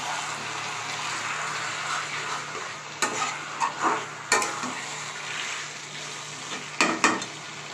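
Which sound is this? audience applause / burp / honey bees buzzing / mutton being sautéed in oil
mutton being sautéed in oil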